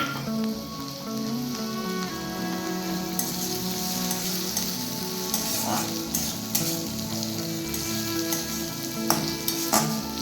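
Chopped tomato fries with onions in a pan, a steady close sizzle with a faint hum underneath and occasional stirring clicks and scrapes of a utensil.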